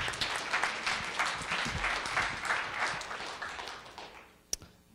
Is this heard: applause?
yes